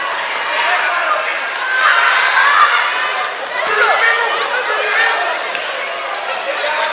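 A crowd at a live professional boxing event roars and cheers in a steady, dense wash that swells and dips slightly, with commentators talking over it.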